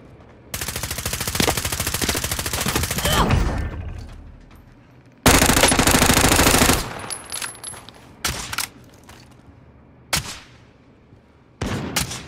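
Gunfire in Call of Duty Warzone: two long sustained bursts of automatic fire, followed by scattered single shots and short sharp cracks, loud and close with no talking.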